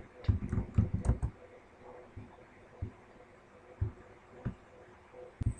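Someone types a command on a computer keyboard in an Ubuntu terminal. Faint, close clicks start as a quick burst of keystrokes, then thin out into a few isolated taps separated by pauses.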